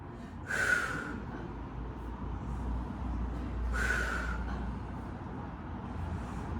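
Deep breath out during a beginner Pilates core workout at home, heard as two long breathy exhalations, one near the start and one midway, over a steady low room hum.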